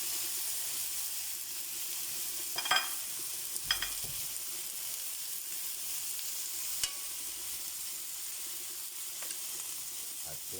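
Chayote sautés quietly in a pan, a soft steady sizzle with a few sharp clinks and scrapes of a utensil against the pan, fairly faint and without talk.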